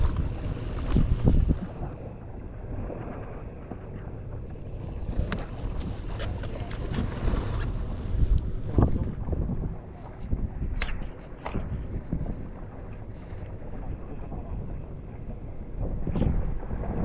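Wind buffets a boat at sea off Karimun Jawa, a continuous loud rumbling roar with gusty bursts and water wash beneath it.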